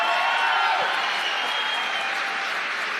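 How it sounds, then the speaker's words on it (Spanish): Audience applause for a panel guest at a punk history talk at a book fair, steady dense clapping from a sizable crowd throughout, loud and even. "Un gran aplauso para Gary."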